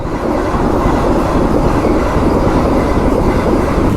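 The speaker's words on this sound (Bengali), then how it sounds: "বন্দে ভারত ট্রেন চলে গেল ভাই" A Vande Bharat express train rushes past very close and loud, a continuous roar of rumbling wheels and rail clatter with no voices.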